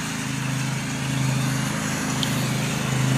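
A riding lawn mower engine runs at a steady idle-to-cruise pace on a homestead, producing a continuous low droning hum with a faint rattle, close by and unchanging.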